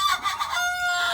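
Sonali chickens in a poultry shed cluck and call continuously in a dense, steady flock chorus, close and fairly loud, with no talk.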